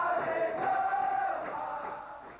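A football stadium crowd at a 1999 Brazilian championship match between Gama and Ponte Preta sends up a sustained, fairly faint roar of cheering and chanting from a distance, swelling slightly and then easing off.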